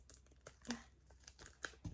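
Faint crinkling of a plastic puzzle packet being opened, with soft irregular rustles and small crackles close by.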